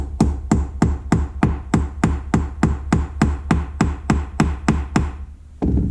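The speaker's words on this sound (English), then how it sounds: "Take yourself a hammer and just gently tap it in." A hammer gently taps a shadow pivot pin into a slipjoint knife, striking about fifteen times in an even, quick rhythm of sharp metallic ticks, then a brief pause and one final tap.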